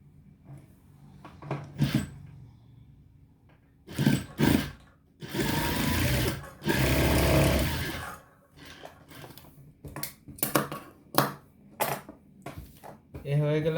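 A sewing machine stitches blouse fabric in two sustained runs, a tacking seam for fitting, interspersed with short bursts and handling noises, with talk between runs.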